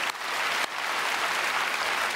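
A church congregation applauds at a special dawn prayer service, a dense, steady wash of clapping from a large crowd that carries on throughout with one brief dip early on.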